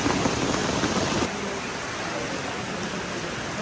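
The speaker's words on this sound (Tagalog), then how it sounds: "Kahit saan ako mag-camping, umuulan." Rain falling at a riverside campsite, a dense steady hiss of drops that is heavier at first and then settles into a constant patter, with no talking.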